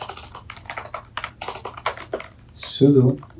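Rapid keystrokes clatter on a computer keyboard as a terminal command is typed, a quick irregular run of close clicks followed by a heavier clack near the end.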